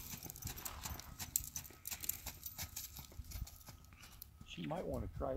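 Horse hooves clip-clop in an uneven, fairly quiet rhythm close by on a farm, with people talking over them and a brief animal call near the end.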